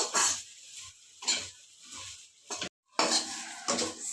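Okra stir-fry being sautéed in a pan, with repeated close scrapes and clinks of a metal spatula against the pan in an uneven rhythm over a faint sizzle, broken by one brief silent gap.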